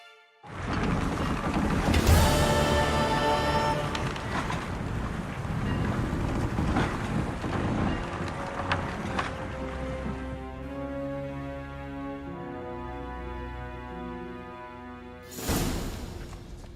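Sailing ship casting off in The Witcher 3, a steady wash of waves, wind and creaking hull sounds running throughout with layered ambience, fairly loud and continuous, swelling again briefly near the end.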